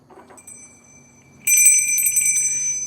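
A small hand bell rings out sharply and keeps ringing with a bright, sustained metallic tone after a quiet start with faint shuffling.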